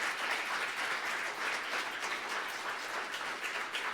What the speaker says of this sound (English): I think they deserve a round of applause for their efforts.